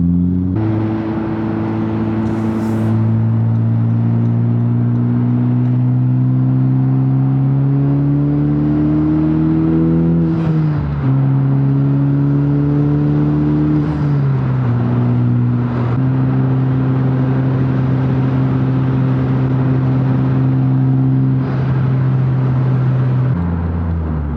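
A 2021 Honda Civic Type R fitted with an Invidia Gemini R400 titanium exhaust drones loud and close, its pitch rising and falling through several gear changes as it pulls steadily, with no talk.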